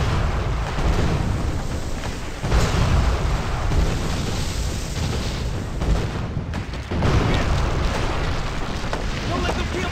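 Dense, heavy booming and rumbling cannon blasts pile up continuously during a steamboat ambush in the video game GUN, with a voice faintly mixed in.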